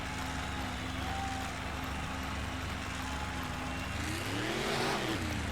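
Racing trucks rev and accelerate off the start line at a motorsport event, their dense, roaring engine noise loud and continuous, swelling near the end as they pull away.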